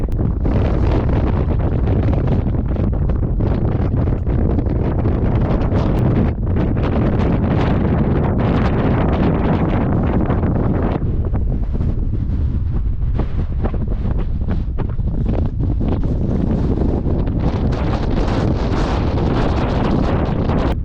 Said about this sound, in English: It's a little windy, but we got this nice rock fort.